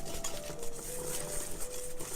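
Flourless chocolate cake batter being mixed as melted chocolate is added, giving a soft, steady scraping and stirring noise that stays low and even throughout, with no voices.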